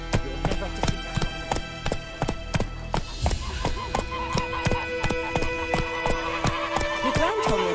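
Horse hooves clip-clop at a fast gallop in The Witcher 3 next-gen, loud and rhythmic throughout, with a short whinny, tonal game music and a voice underneath.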